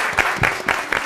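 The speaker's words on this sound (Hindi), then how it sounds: "तालियां भाई" Audience applause at a live weekend comedy show, a short burst of clapping with a few louder swells, fairly close and steady with no talk over it.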